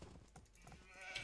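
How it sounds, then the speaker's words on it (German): Sheep bleating in the strategy game Age of Empires 2, a faint, low animal call lasting about a second, heard quietly in the game's sound. "Und da sind die Schafe."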